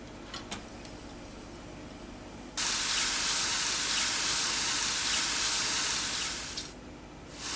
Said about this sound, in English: saute them in a pan with a little bit of olive oil